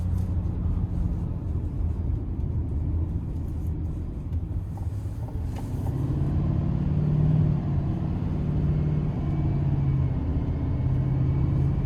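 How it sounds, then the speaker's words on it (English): A 2026 Chevrolet Silverado 3500HD dually with a Duramax diesel and 10-speed transmission under throttle: a continuous low rumbling engine drone heard from inside, swelling slightly louder partway through. "And I love the blow-off valve. The sound it makes, it just it's tough."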